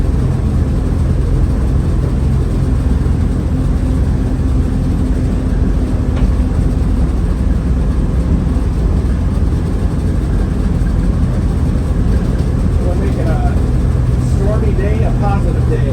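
A Red Diamond 501-engined school bus with a five-speed gearbox, cruising in fifth gear: a steady, loud engine drone with road rumble, running continuously throughout.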